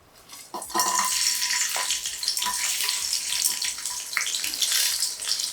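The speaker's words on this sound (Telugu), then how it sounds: "కొంచెం నూనె వేసుకొని ఆ నూనె కొద్దిగా కాగిన తర్వాత వెల్లుల్లిపాయలు" Garlic frying in hot oil at the start of an ivy gourd fry, a loud continuous sizzle that bursts up when the garlic goes in and stays steady and close.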